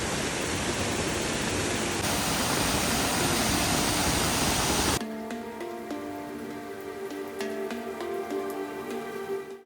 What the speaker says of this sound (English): we reached a picnic spot and no surprise, spotted a waterfall there as well.